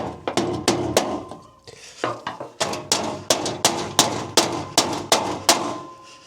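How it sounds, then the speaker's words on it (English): Hammer blows knock a rusted part off a trailer floor: a steady run of sharp, loud metallic strikes, about two per second, close by, with a short pause partway through. "Just take a hammer and try to hit it off."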